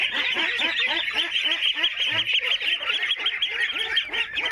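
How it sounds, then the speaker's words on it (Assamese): A flock of broiler ducklings calls nonstop, dense overlapping honking peeps from many birds close by. "এইবিলাক ব্ৰইলাৰ হাঁহ পোৱালি আমি দিছিলোঁ, ব্ৰইলাৰ হাঁহ।"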